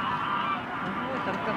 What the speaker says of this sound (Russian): Слушай, да, там гуси так кричат.